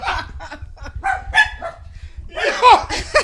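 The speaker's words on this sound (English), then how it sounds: "You hear the dog?" A dog barks a few times in short, sharp bursts, mixed in with people talking over and around it.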